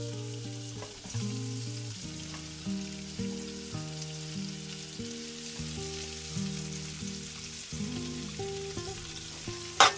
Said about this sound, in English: add the onions, the chopped onions, into the pan and let them fry